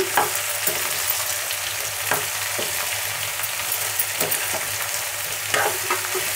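A curry of moong dal, bottle gourd, onions and green chillies is stirred in a pan, giving a continuous close sizzle with intermittent scraping of the spoon at an irregular rhythm.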